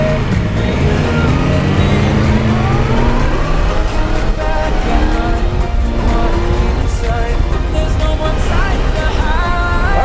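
Continuous loud engine of a Yamaha MT-10 motorcycle with its crossplane engine, heard while riding, with pitch sweeping up and down through shifts, wind rush throughout and someone talking over it.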